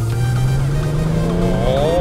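A Nissan RB26 engine revving, heard as a loud, steady, close-up mechanical drone whose pitch climbs slowly throughout, with a faint voice in the background.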